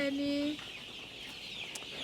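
Chickens on a farm give soft, scattered clucks over a steady, noisy background, after a brief tonal call at the start. Individual calls stay faint and close together.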